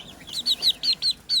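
Young Pekin bantam chicks, one a developing rooster, give a quick series of high, bright peeping chirps, about six close together, sounding near and clear.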